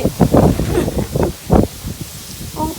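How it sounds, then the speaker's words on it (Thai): Strong wind gusts through a winter vegetable garden at about minus one degree, loud and buffeting in repeated bursts against the microphone, with no voices heard. "อุ้ยหนาวมากลมแรงมากวันนี้"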